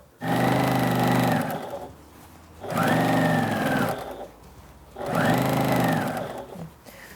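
A sewing machine stitches gathers in cotton fabric in three bursts of steady, rapid stitching, each about two seconds long, with brief quiet pauses between them.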